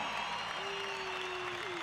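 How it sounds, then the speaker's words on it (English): Applause from the crowd at a motocross event for a young rider, a steady dense clapping wash filling the clip with a faint tonal whine running through it. "filling in for James, I think you all should give him a big round of applause for that"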